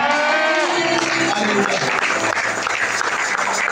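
A church congregation applauds and cheers in acclaim of Jesus, loud sustained clapping mixed with crowd voices for several seconds, close and dense throughout.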